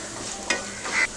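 Brief, soft sizzle of white sesame seeds, turmeric and chili powder being stirred in a hot pan, with two quick scraping swishes.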